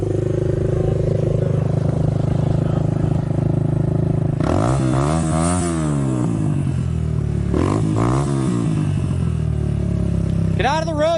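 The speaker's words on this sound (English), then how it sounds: "can you video me while I do a wheelie?" Motorcycle revving hard for a wheelie on a road, loud nearby engine swelling up and down in two long surges with rising and falling pitch, then a brief sharp rev at the end, over steady background noise.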